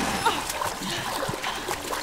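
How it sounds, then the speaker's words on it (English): A character falls and splashes into water in The Quarry, a messy run of wet splatters and sloshing at modest volume, with voices mixed in. "She hits water."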